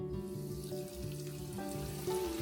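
Breaded fish fillets frying in hot oil in a home kitchen, giving a steady close sizzle and crackle with a low hum beneath and no talk.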